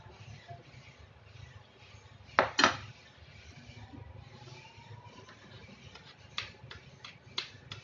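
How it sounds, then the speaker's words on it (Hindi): A metal tea strainer taps and scrapes against a vessel while ghee is strained, with a couple of loud clanks and scattered lighter clinks over quiet background, close by. "इसी चाय की छलनी लेके हमने घी को बिल्कुल प्योर हमने बनाना है"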